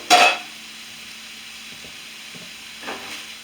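Tomatoes hit a hot pan with a brief loud sizzle, then fry quietly with a few soft scraping stirs and a second small burst of sizzling near the end, prepared for a homemade steak and cheese.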